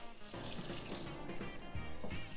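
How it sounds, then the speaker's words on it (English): A newly installed kitchen sink faucet runs hot and cold water in a steady, continuous splashing stream into the basin, close and loud throughout with no talking. "Hot and cold running water."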